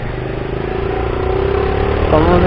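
A Royal Enfield motorcycle ridden on a road in South Aceh, Indonesia, with a steady engine note that climbs gradually as it accelerates, getting louder toward the end.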